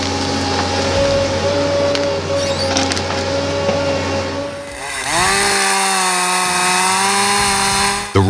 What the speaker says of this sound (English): The roar of the chainsaw, each sharp cut cuts through the hard wood